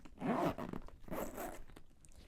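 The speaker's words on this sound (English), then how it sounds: "And everything does zip up, but it is pretty full now." A packed travel duffel bag being zipped closed, two long zipper pulls in a row, close and fairly loud with a short pause between them and no talk.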